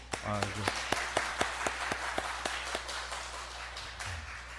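A church congregation at a Sunday service claps together in a fairly even rhythm of distinct, separate claps, moderately quiet and somewhat distant, with a low steady hum and a brief murmur of voices.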